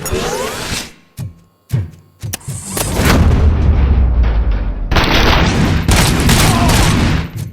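Rapid bursts of gunfire and booming blasts in the video game RoboCop: Rogue City, a few sharp shots first, then a sustained loud barrage of shooting and explosions.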